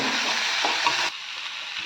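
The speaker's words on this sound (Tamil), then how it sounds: "கருவேப்பிலைங்க கருவேப்பிலை இதையும் லைட்டாக கொஞ்சம் வணக்கினா போடுவோம்" Steady broadband sizzling of curry leaves sautéing in a hot pan, loud at first, then easing slightly after a second, with no voices.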